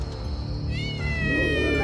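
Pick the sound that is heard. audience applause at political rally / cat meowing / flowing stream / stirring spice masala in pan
cat meowing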